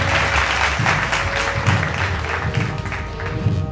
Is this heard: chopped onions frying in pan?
no